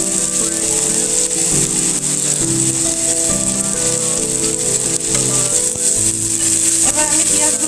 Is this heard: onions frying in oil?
yes